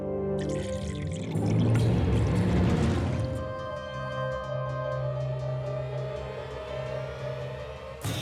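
Water is poured into a glass for drinking indoors in an office, a bright splashing pour lasting a few seconds that fades into a quiet room tone with faint tonal hum.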